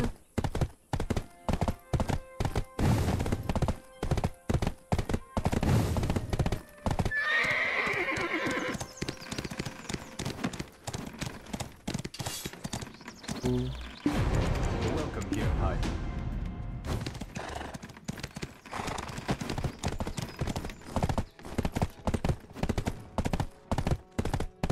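A horse whinnies amid rapid clip-clopping hooves and sharp thuds in Black Desert gameplay, with voices talking over the busy action.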